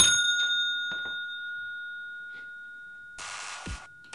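Several short metallic dings of a bell rung during a dice board game ring out one after another with quiet gaps between them, close by and otherwise silent.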